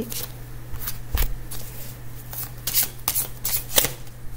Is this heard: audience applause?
no